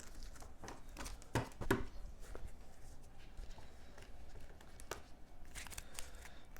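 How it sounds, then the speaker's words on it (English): Game cards from a large Dune Imperium deck are shuffled by hand on a tabletop, giving soft riffling and rustling bursts with a few sharper flicks early on, fairly quiet and with no talk. "Okay, so shuffle these down"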